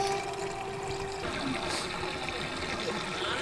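Water runs steadily into the large sanitation water tank of a houseboat on an English canal, a continuous close rushing trickle with no break and no talk.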